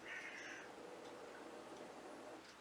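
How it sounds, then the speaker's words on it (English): Crows caw faintly in the distance, a few hoarse calls at the start over a quiet, hissy background. "Did you hear the crows?"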